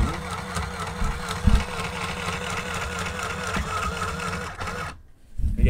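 A sewing machine runs steadily, stitching along the line of the first seam on a tripod carrying bag. The motor hum continues for about five seconds, cuts off briefly into near silence, then starts up again.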